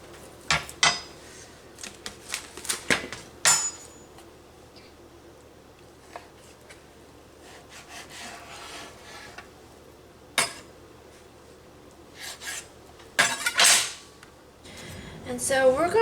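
A knife cuts sushi ingredients into long strips on a board, producing sparse sharp taps and clinks spaced irregularly across a quiet kitchen background.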